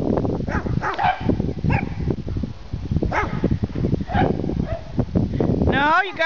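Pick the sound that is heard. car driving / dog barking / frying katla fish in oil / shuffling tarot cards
dog barking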